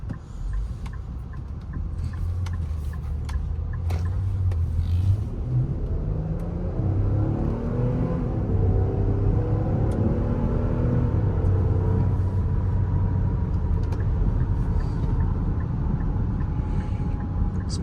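A 2024 Infiniti QX60 with a 9-speed automatic accelerates smoothly from inside the cabin, its engine note rising steadily through the gears over a low road rumble, with faint ticking in the background.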